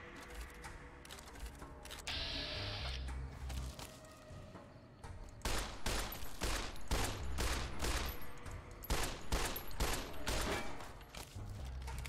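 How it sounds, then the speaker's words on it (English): Enemy gunfire in Fallout: New Vegas, with dense bursts of rapid shots that grow heavier in the second half, cracking in clusters over a steady background din. "Where am I getting shot from?"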